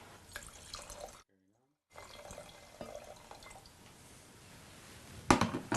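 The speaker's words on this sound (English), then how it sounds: "I'll pour a little wine and..." Wine pours steadily into a glass with a soft, splashy trickle, pauses briefly, then resumes before a brighter splash near the end.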